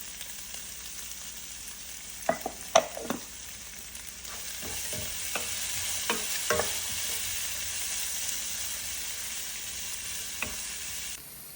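Onions, garlic and ginger sautéing with salt for a vegan Indian okra stew, a continuous sizzle broken by sharp scrapes and clacks of stirring, close and alone without voices.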